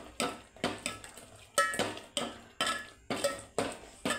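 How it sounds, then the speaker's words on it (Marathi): Chutney stirred and sautéed in hot oil in a pan for chhole masala, heard as a steady series of about nine scraping, clinking stirs with a utensil against the pan, close and rhythmic, with little audible sizzle. "ते आता परतून घ्यायचं छान असं।"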